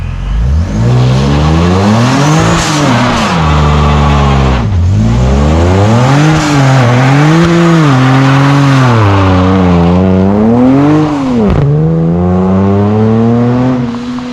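A supercharged V6 Dodge Charger 397 launches, its loud close engine rising and falling through repeated revs and surges for the whole stretch, with no one speaking.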